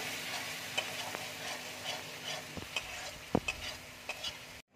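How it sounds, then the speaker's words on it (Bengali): Spice paste frying in a pan for an egg curry, after salt and a little water were added: soft steady sizzle with scattered spoon scrapes and taps against the pan, fairly quiet and close, cutting off abruptly at the end. "মশলাটাকে ভালো করে ভেজে নেব।"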